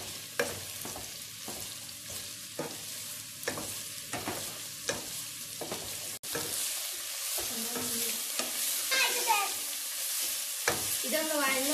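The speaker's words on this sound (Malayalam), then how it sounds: "ഇനി നമുക്കിത് നല്ലപോലെ ഇളക്കിയെടുക്കാം." Four medium-sized onions are stirred and sautéed in a pan for quail biryani, with a steady sizzle and regular spatula scrapes, close and clear, a brief dropout midway, then a louder hiss and rattling stirs.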